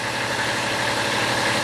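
Tractor loader engine idling, a steady, continuous rumbling drone with a low throb, close and fairly loud throughout without any change in pace.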